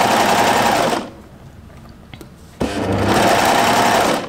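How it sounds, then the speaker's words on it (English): A sewing machine stitches a knit-fabric jumpsuit pocket in two close, steady whirring runs with a short quiet pause between them. "I'm going to stitch this."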